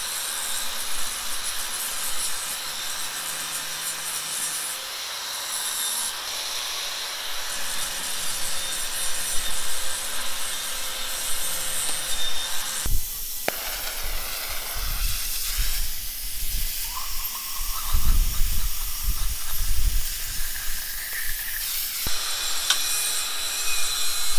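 A tractor-driven auger grinds and rasps loudly and steadily, shifting in tone as it bores slowly into the soil for a water well, with tractor engine noise underneath.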